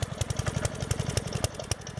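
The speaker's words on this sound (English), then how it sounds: "this engine starts every time" Briggs & Stratton engine on a Craftsman portable generator starting on choke and settling into a steady, fast putter of regular firing pulses, close and fairly loud with nobody talking.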